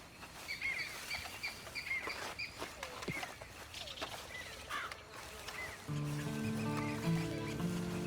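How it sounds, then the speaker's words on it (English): A horse whinnies in the Red Dead Online video game against a bed of chirping birds and soft hoof thuds, and then a sustained musical tone swells in near the end. "Then you better get on this horse."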